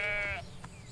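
A sheep in the farming video game Everdream Valley lets out a single short, faint bleat that quickly fades into quiet background.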